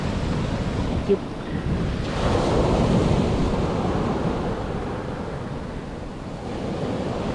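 Arctic Ocean waves wash and surge against the shore in a continuous roar, swelling midway, with wind buffeting the microphone.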